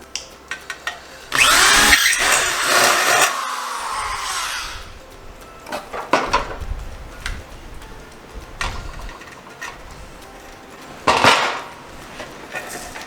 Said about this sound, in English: I'm going to have to drill something around a 1/2 inch, 3/4 inch hole for my wires to come in from the ceiling into the fixture.